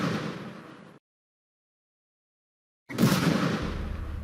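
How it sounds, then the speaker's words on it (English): Explosion set off by a clicked detonator in a Roblox game, heard as two loud noisy bursts separated by a gap of silence, the second sharper and followed by a low rumbling tail. "Now when we click the detonator, we should not only see the explosion, but hear it too."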